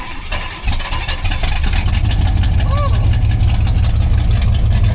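A 1969 Camaro RS-style V8 with a Holley carburetor runs after starting, a steady loud low idle rumble that swells and holds through the clip, with people talking over it.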